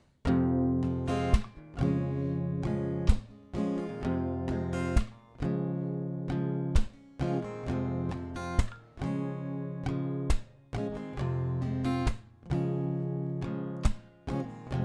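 Steady acoustic guitar strumming, with sharp clap-like percussive hits landing between chords in a regular, moderately quick rhythm, close and clear.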